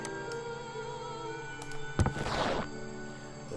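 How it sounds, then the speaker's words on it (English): A soft fabric swish of curtains sliding in the video game Detective Grimoire, a brief rustling sweep over a low steady ambient hum, fairly quiet. "That was the sound of the curtains."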